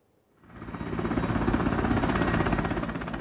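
A search-and-rescue helicopter's rotor chop fades in and quickly builds to a loud, steady thudding pulse, close overhead with engine roar beneath, during an emergency landing on a seashore after engine failure.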